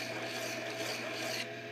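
A short, steady rasping scrape of a small sanding block smoothing the edges of a brass expander plug, continuous and fairly quiet, with no voices.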